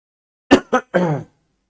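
Three quick, close coughs in a row, the last one longer and more voiced, like a rough throat-clearing hack.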